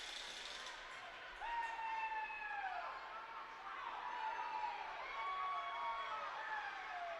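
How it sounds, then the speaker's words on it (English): Spectators at an arena soccer match between Guatemala and the USA rise into a swelling, sustained cheer that fills the hall, with whistles and shouts over a steady crowd roar at moderate distance. "This U.S. crowd starting to come back to life."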